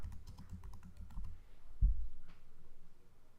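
Fingers tapping a computer keyboard in a quick burst of light clicks, followed by a single heavier key press, close and quiet, with no voices.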